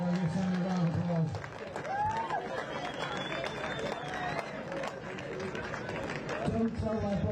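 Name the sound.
crowd applause at a touch championship awards ceremony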